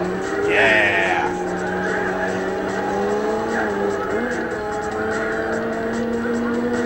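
A racing car engine whines steadily in Gran Turismo 4, its pitch rising and shifting through gears, with a brief high tire squeal near the start, loud and continuous.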